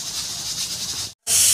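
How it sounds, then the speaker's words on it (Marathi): A pressure cooker whistle releases steam as a loud, close, continuous hiss. It cuts out briefly for a moment, then returns even stronger. "सॉरी कुकरची शिट्टी होत आहे त्यामुळे तुम्हाला खूप आवाज येत असेल।"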